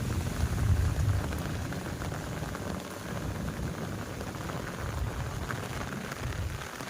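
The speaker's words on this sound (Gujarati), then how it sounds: "તો બધો વરસાદ છે અમારા અહીંયા" Steady rain pours down with a constant dense hiss and low rumble, close and fairly loud throughout, with no voices.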